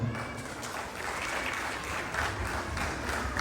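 A crowd at a Shiv Jayanti gathering claps steadily for its contributors, dense and even throughout, fairly loud and with no voices over it.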